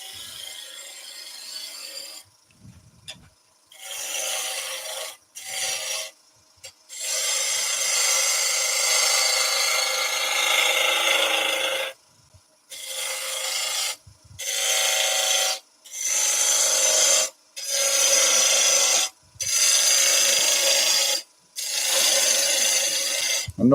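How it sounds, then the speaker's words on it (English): Bowl gouge cutting a driftwood bowl on a wood lathe, a steady rasping, scraping cut repeated in bursts of a few seconds each, separated by short silences, close and fairly loud with no talking. "present the bottom edge of the bowl gouge just like a skew and run along"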